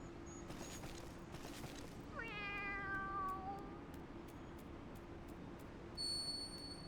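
A cat in a role-playing game gives one clear, near, rising-then-falling meow over a steady low background hum, with soft tapping sounds around it.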